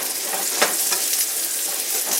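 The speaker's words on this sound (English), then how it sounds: "bacon's starting to crisp up, so I throw in the mushrooms" Mushrooms fry in bacon grease in a cast iron pan, giving a loud, dense, continuous sizzle with small crackles and stirring scrapes throughout.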